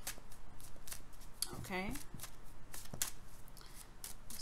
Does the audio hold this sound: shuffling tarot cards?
yes